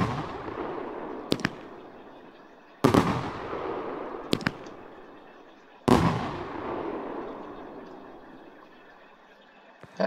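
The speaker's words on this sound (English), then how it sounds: "Next one we have is called Chinese Wall." A Chinese Wall firework cake fires off in a series of sharp, loud bursts, each crack followed by a long crackling, hissing tail that fades before the next volley, heard close and with no speech.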